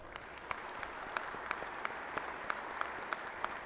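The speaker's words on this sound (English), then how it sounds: "How about a round of applause for those families?" A steady wash of audience applause at an Air Force change of command ceremony honoring service families, moderately distant and fairly faint, with a few sharper individual claps standing out at regular intervals over about four seconds.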